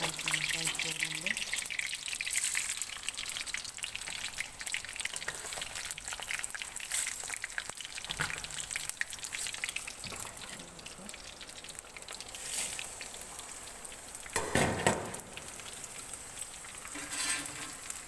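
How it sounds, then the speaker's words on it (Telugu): Tempering for sambar sizzles in a hot pan, a quiet, irregular crackle and spitting with a few louder pops, while a person talks over it. "సాంబార్కి తాలింపు పెట్టుకుంటున్నాను"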